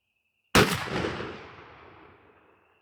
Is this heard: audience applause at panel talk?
no